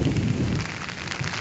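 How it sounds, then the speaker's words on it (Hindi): A low rumble of thunder with lightning rolls beneath steady heavy rainfall and strong wind in Siwan, Bihar, loud and continuous, fading slightly toward the end. "बिजली कितनी कड़क रही है।"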